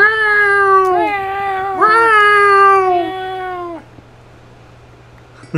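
A domestic cat meows loudly and close by, giving two long, drawn-out wails one after another before the sound drops away to quiet.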